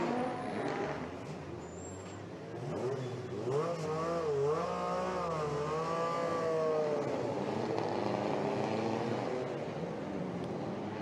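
Historic rally cars pass on a demonstration run at a street circuit, engines rising from a distant rumble to a loud, close, revving roar, with pitch sweeping as the cars shift and drive by.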